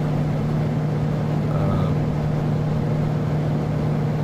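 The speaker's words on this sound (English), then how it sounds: "So I'm throttling back quite a bit." Aircraft engine in the flight simulator game X-Plane, a steady loud droning hum with a strong low tone that holds evenly without talk, the engine being throttled back.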